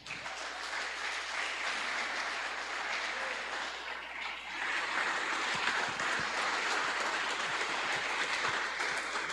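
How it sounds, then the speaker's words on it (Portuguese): A church congregation applauding during an evening service, sustained clapping from a large crowd filling the room, steady throughout and swelling slightly louder midway. "Aplauda Jesus nessa noite"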